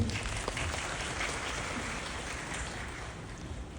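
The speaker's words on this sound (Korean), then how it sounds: "이렇게 박수를 계속 쳐주시면 이야기가 흐름이 끊기니까" An audience at a special talk event for the film Bugonia keeps up a dense, even hiss of applause, many hands blending into a steady rain-like roar with no distinct claps.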